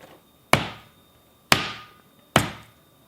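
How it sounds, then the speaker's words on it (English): A meat hammer pounds thin slices of beef for carpaccio with three separate, evenly spaced thwacks, each a sharp close impact that fades quickly, with no talking. "you just pound it out nice and gently"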